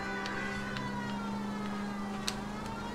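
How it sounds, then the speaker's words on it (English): A police car siren from the video game L.A. Noire wails steadily in the background at low level, with no talk over it. "I threw on the siren there"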